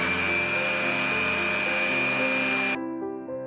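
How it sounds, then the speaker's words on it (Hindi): Food processor blending crushed Oreo biscuits with melted butter, a loud steady motor whir close by that shuts off sharply near the end, leaving a brief fading hum. "अब इसमें डालेंगे मेल्टेड बटर और अच्छे से ब्लेंड करेंगे"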